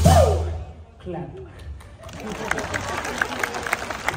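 Audience at a Polynesian dance show in Hawaii breaks into clapping after a shouted call and a brief lull, the scattered claps swelling into steady applause mixed with crowd murmur.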